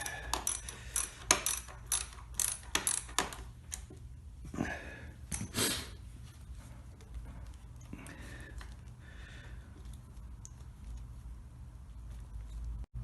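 A bolt loosened to remove a motorcycle clutch lever: a quick burst of close metallic ratcheting clicks, then softer scattered handling noises fading into quiet.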